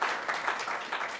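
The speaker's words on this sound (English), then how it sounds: "And yeah, good applause" Applause from an audience at a Chicago gourmet food event, a steady dense wash of clapping that swells in soft waves for about a second.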